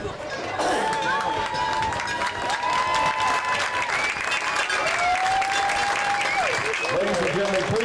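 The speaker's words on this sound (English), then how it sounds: "please give these strong warriors a round of applause" Stadium crowd applauding cancer survivors, a loud continuous roar of clapping and cheering from a large crowd, with a few long whistles and shouts riding over it.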